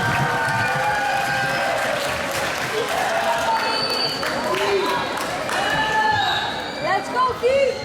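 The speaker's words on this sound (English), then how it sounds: "Get a big round of applause for our Dogie band." A crowd at a junior high Veterans Day ceremony applauds the school band, with sustained clapping, cheers and scattered voices filling the room.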